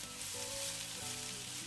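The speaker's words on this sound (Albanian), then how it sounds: "do vazhdojmë që t'i fërgojmë tani karotat, dikon 5 deri në 6 minuta, duke i përzier kështu her pas here" Carrots frying in oil while being stirred, a steady close sizzle with a faint scrape of stirring, brief and without voices.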